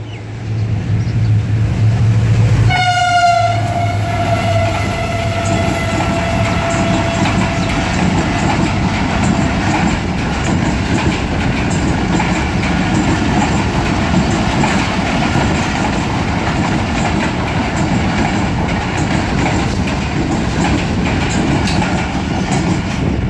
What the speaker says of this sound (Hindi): 47 अप रहमान बाबा एक्सप्रेस HGME 308210 के साथ वहाँ से काफ़ी अच्छी स्पीड में गुजरी।